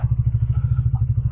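A motorcycle engine idles while warming up, thumping in a close, loud, even beat with a slight mechanical clatter.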